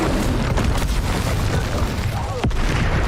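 An Incendio fire spell cast in Hogwarts Legacy: a dense, roaring burst of fiery booms that hold loud and steady, with a sharp crack near the end.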